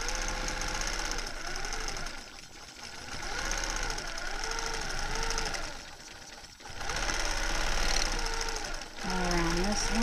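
A sewing machine stitching echo quilting hums and chatters steadily throughout, its pitch rising and falling as the speed changes, with a short slowdown midway and faint voice-like tones near the end.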